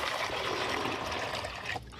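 Water pours from a pitcher into the reservoir of an R W Flame ice maker, a steady close splashing trickle that runs for nearly two seconds before abruptly stopping.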